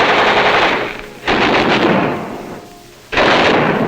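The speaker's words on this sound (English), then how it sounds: "Check and test fire all weapons." Machine guns test firing aboard ship before the Tarawa landing in World War II: loud, continuous bursts of rapid automatic fire, broken by short pauses between long strings of shots, heard alone without voices.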